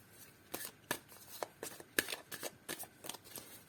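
A tarot card deck is handled and shuffled up close, with a quick run of soft crisp riffles and flicks of the cards, fairly quiet.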